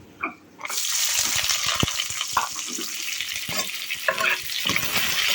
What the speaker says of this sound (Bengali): ফ্রাই প্যানে তেল দিয়ে গরম মশলা গুলো একটু ভেজে নিচ্ছি